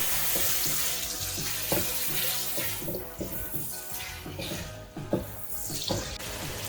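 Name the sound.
green chillies sizzling with tomatoes in a karahi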